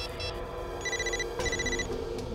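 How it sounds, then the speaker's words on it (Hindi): A telephone rings in repeated short electronic trills, two clear bursts over a steady background hum, fairly close and with no talk. "फोन कहां बज रहा है?"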